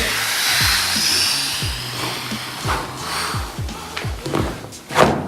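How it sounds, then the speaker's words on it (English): A dry bag being folded over with its air pushed out, a steady rushing hiss of escaping air over repeated low thumps and crinkling plastic rustles, close up. "the black straps across the top of the dry bag, I'm gonna fold over once, push all of the air out"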